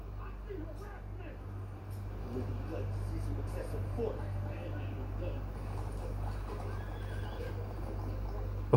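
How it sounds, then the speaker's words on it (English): Police horses in the film Batman Begins whinny over a soft background of clip-clopping hooves and film ambience, fairly faint and spread across several seconds. "Oh, policemen and horses."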